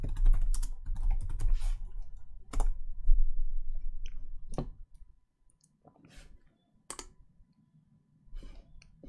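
Keywords typed on a computer keyboard in quick bursts of close, crisp key clicks, followed by a few sparse taps and pauses, alone with no talking.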